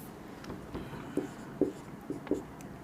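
Pen or chalk strokes writing out a class 10 arithmetic progression math solution, a few short scratchy marks in an uneven rhythm, close and fairly quiet.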